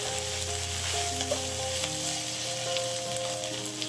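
Pork belly and other ingredients are stir-fried in a wok, with a continuous sizzle and crackle, a faint steady tonal hum underneath and the occasional scrape of tossing, and no voices.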